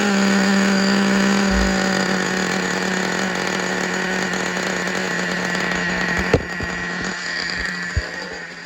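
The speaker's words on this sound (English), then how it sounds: "we're going to try to start the Nitro up" A small nitro RC car engine buzzes continuously at a high, steady pitch, loud and close, with a couple of sharp clicks near the end.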